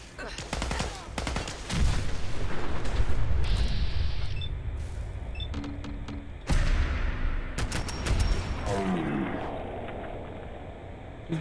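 Gunfire in the modded Fallout 4 game, with sharp, loud bursts of rapid shots in two main volleys, followed by scattered single cracks and ringing impacts against a busy background.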